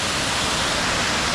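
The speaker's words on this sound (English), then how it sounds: "There's the second waterfall." A waterfall in the Brecon Beacons, Wales, roars steadily and close by, a dense, unbroken rush of falling water with no voices over it.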